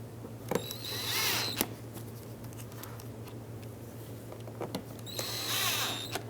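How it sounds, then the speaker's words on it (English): A power driver snugs T20 screws on a Nissan Pathfinder radiator core support in two short bursts of whirring with a tight ratcheting rattle, separated by a quieter stretch over a low steady hum. "the T20 screws. Snug these up over here."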